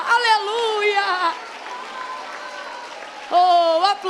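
Church congregation clapping under a preacher's sung, sustained exclamations, the applause a brief patter beneath loud vocal lines that drop away and return.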